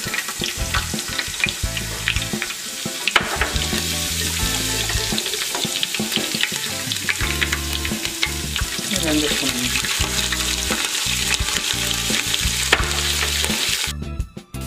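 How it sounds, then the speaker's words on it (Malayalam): Curry leaves and garlic fry in hot coconut oil, a loud steady sizzle with crackles and stirring clatter throughout, close up, ending abruptly. "കറിവേപ്പില കുറച്ച് വെളുത്തുള്ളി കൂടി ഇടുക"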